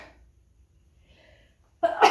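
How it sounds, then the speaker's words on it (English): A single sharp sneeze bursts out near the end after a quiet stretch, loud and close, with a faint breathy buildup before it. "I may sneeze."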